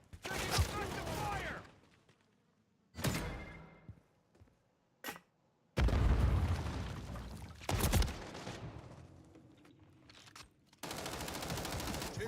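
Video game battle gunfire: loud bursts of automatic fire in several separate volleys, broken by short gaps and a single sharp shot, with rattling echoes trailing off between bursts.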